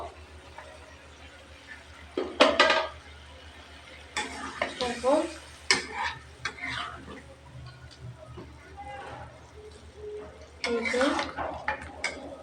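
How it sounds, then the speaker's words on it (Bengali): Small cut potato pieces tipped into a pot of chicken curry with chana dal, making clattering pot-and-spoon knocks and stirring scrapes over a faint sizzle, with a voice speaking intermittently. "এখানে ছোট ছোট করে আলু কেটে রেখেছি আলুগুলো এখন দিয়ে দেবো"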